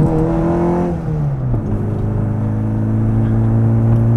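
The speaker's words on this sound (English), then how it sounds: "I'm just going around the block, really, to give you guys a ride and" A JET Motors remastered classic Mini drives at modest speed around a block, its engine humming steadily from inside the car, with a short drop in pitch as it shifts before settling into a smooth, even drone.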